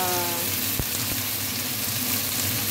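Garlic and ginger, already browned, sizzle and fry steadily in a pan as eggplant is added and stirred in for ginisang talong, with a couple of brief knocks of the spoon against the pan.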